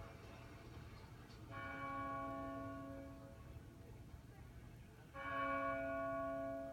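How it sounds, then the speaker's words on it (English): Church bells of Trinity Church toll in two separate strikes, each a bright ringing tone with long harmonic overtones that hang and fade, heard alone against a low background rumble. "As the bells of Trinity Church began to toll"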